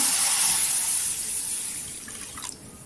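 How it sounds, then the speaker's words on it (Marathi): Water splashes and pours steadily into a container, a bright hissing stream that tapers off near the end. "इथे कळे ठेवलेली आहे त्याच्यामध्ये पाणी टाकायचं"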